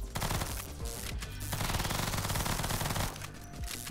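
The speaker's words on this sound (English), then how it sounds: "I shoot so fast though" Rapid, sustained automatic fire from a video game weapon with a very high rate of fire, a dense buzzing stream of shots running nearly the whole time with brief breaks, loud and close with no voices.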